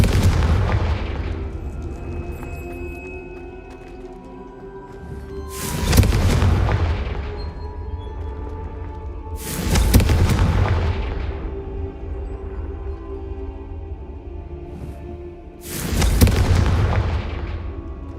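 Confringo fire spell blasts in the video game Hogwarts Legacy: three loud, booming explosions, evenly spaced, each with a rumbling tail that fades over a low background hum.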